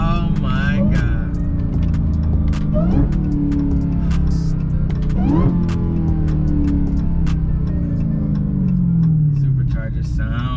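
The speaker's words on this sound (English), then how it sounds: "Superchargers sound crazy." A warmed-up 2020 supercharged car fitted with an aftermarket Legmaker intake hums loudly with a whining engine tone that rises and falls across several rev changes, close and continuous throughout.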